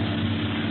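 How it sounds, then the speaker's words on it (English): Propeller airplane engine in an old-time radio drama: a steady, loud, droning engine hum with strong low rumble, continuous and even throughout, no voices over it. "Hey, do you hear another plane"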